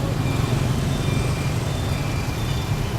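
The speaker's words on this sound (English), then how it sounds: "there's people turning left, weaving through the traffic" Street traffic in Ho Chi Minh City hums steadily as a dense, continuous low rumble of passing vehicles at a moderate distance.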